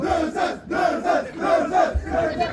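A crowd at a live rap show chants and cheers in loud, rhythmic bursts, repeating a pulsing call over and over.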